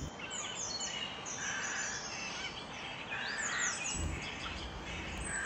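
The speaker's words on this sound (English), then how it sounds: "Can you hear the birds chirping?" Birds chirping and tweeting continuously in a forest setting, many overlapping high calls with a steady background hiss, fairly close and with no one talking.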